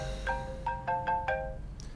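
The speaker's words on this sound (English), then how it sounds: "then a bell appears in the frame and starts ringing" A bright electronic tone chimes in a quick, repeating pattern of short notes against a low background hum.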